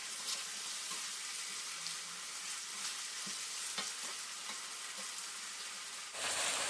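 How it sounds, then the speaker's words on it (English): Vegetables for Nigerian fried rice fry in a hot pan, a loud, steady close-up sizzle with intermittent stirring scrapes, alone until it cuts off near the end. "Don't over fry the veggies."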